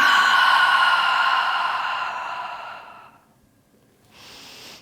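A strong, forceful breath pushed out during a beginners' Pilates abdominal exercise: one loud, steady exhalation lasting about three seconds, close to the mic, then fading to silence before a faint breath starts again.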